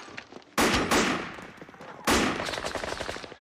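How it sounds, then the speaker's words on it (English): Heavy gunfire from the film 28 Days Later comes in two loud, close, rapid bursts. Each hits with a sharp blast and rattles on as dense automatic fire, then cuts off abruptly. "Shooting quite a lot."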